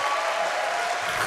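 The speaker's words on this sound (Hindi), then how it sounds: "बेटा जोर से तालियां बजाओ" Brief, dense burst of applause from a literature festival opening ceremony audience, even and sustained at moderate loudness with no gaps.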